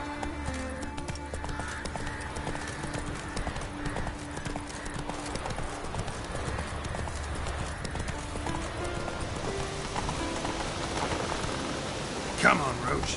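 Horse hooves clip-clop steadily in The Witcher 3, a rhythmic trotting gait with rain falling in the background and a brief louder thump near the end.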